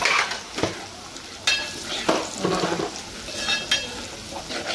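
Spice masala fries in a pan for a stuffed crab dish, with a continuous sizzle and repeated scraping stirs and clinks of a spoon against the pan, close and fairly loud.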